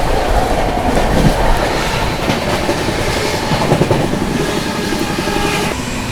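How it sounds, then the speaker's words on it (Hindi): The Howrah Rajdhani Express runs at speed past the Triveni Express near Vindhyachal, with a loud, close, continuous rumble of rolling wagons and rhythmic clickety-clack of wheels over rail joints. "त्रिवेणी एक्सप्रेस को ओवरटेक कर दिया अपनी हावड़ा राजधानी ने विंध्याचल पे"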